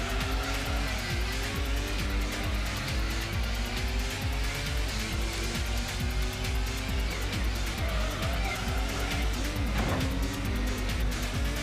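A Toyota Supra race car in the PS1 Gran Turismo game roars under steady, loud engine drone with tire squeal as it slips through a corner, continuous throughout at close range.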